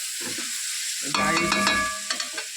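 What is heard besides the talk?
stirring chicken biryani in a pot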